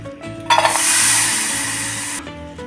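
Solid jaggery tipped into a metal pan on a stovetop, a sudden loud clattering pour with a bright hiss that runs for about a second and a half, then cuts off, with faint kitchen hum underneath.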